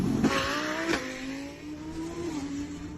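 A car fitted with a new loud aftermarket exhaust accelerates hard, its engine note climbing through rising revs with short breaks between gears, close by and steady over background noise, no talk.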